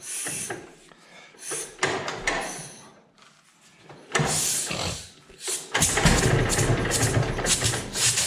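A John Deere B tractor engine cranks and sputters in bursts with choke applied, with brief mechanical clunks between attempts, then catches and runs with a rough, loud, continuous rumble.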